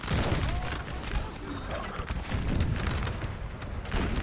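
Musket volley fire in the Napoleon Total War 3 video game, a dense continuous crackle of many guns firing together with booming blasts, loud and sustained throughout.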